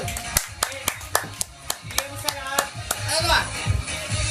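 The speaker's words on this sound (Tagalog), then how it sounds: "palakasan ng palakpak para kay Forrester" Scattered hand claps ring out for a contestant named Forrester at a Filipino competition, sharp separate slaps in an uneven rhythm, joined by talking and crowd noise as the clapping thickens toward the end.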